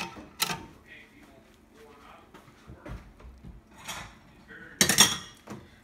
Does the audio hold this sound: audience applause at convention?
no